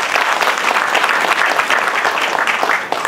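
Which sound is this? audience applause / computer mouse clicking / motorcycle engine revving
audience applause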